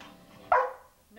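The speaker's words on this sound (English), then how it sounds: "No barking." A single short dog bark rings out close by, set against quiet background talk.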